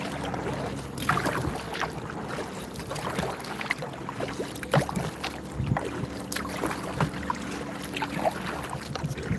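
Paddle strokes pull a small boat through flowing water, a steady run of dips and splashes with a few sharper surges, close to the microphone over a constant watery wash and light wind.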